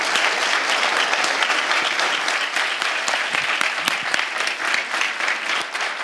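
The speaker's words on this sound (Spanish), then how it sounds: "Vamos a brindarle un fuerte aplauso a Alfonso Pratgay" A crowd applauds steadily, dense clapping that fills the room without a break for several seconds.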